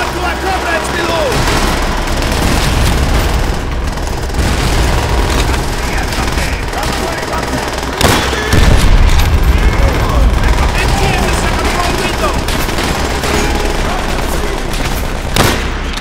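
Sustained automatic and rifle gunfire with booming explosions in the Call of Duty: World at War battle, loud and continuous throughout, with shouted voices over the fighting.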